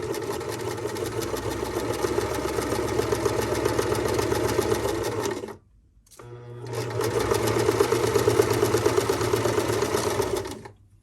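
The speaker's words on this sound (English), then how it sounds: "Start with a back stitch and sew all the way down." Sewing machine running a plain seam, starting with a backstitch, in two long steady bursts of rapid mechanical stitching separated by a brief pause, loud and close with no talk.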